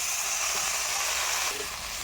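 Eggs and cauliflower hit hot masala in a pan, and a dense, loud sizzling hiss fills the whole stretch, close and continuous, then eases slightly toward the end.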